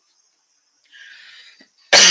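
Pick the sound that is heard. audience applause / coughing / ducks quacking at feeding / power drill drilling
coughing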